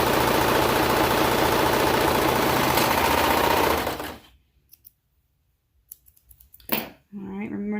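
A sewing machine runs continuously for about four seconds stitching the side seams of a pair of boys' pants, a fast dense mechanical whir, then stops, leaving a few faint clicks and handling sounds.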